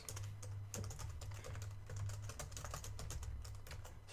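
Typing on a computer keyboard: fast, uneven runs of close, crisp key clicks continue throughout over a low steady hum, with no talking.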